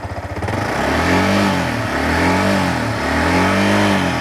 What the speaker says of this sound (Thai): นี่ฮะเครื่องเย็นๆสตาร์ทกัน นี่ทีเดียวติดเช่นเดียวกันนะครับ